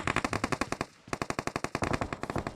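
Rapid automatic gunfire from PUBG Mobile (Battlegrounds Mobile India), loud, close bursts of rhythmic shots with a short pause near the middle before the firing resumes.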